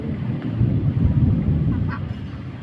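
Ducks at a temple pond after light rain, a short honking quack rising near the end over a low murmur of wind and background noise.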